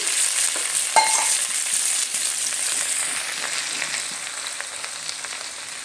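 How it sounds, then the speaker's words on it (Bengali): Chapa note greens and potato frying with browned onions, a loud, dense crackling sizzle with a sharp clink near the start that eases a little toward the end. "আগে থেকে যে কেটে রাখা চাপা নোটে আর আলুটা আমি এই পেঁয়াজের মধ্যে দিয়ে নিচ্ছি"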